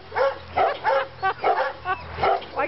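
A street dog, once a stray, gives a string of short, close barks and yips in quick irregular bursts, loud and alone without talk.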